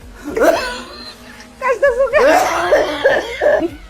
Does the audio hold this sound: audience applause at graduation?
no